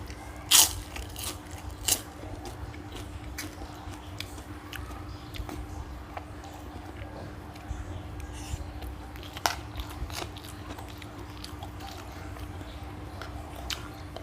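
Crunchy pork rinds are bitten and chewed close up, with a few sharp crunches followed by softer, quieter mastication over a low steady background hum.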